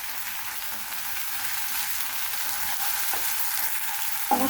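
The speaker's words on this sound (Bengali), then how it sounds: "মশলাটাকে আমি একটু ভালোভাবে ভেজে নিচ্ছি" Ginger-garlic paste with ground coriander and cumin fries in a pan for a rohu curry, giving a loud, steady sizzle with occasional stirring scrapes and no talking.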